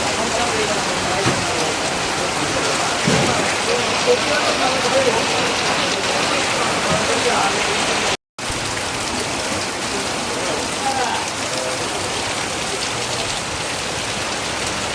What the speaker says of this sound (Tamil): சேலத்தில் பார்த்தீங்கன்னா சரியான மழை